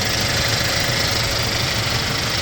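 A 2018 Hyundai Porter manual-transmission truck idling, its engine giving a close, steady, even rumble with a slight knocking texture and no pauses throughout.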